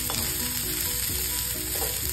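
Shredded cabbage sizzles and crackles as it is sautéed in a hot pan, a continuous frying hiss with occasional scraping stirs, no talking.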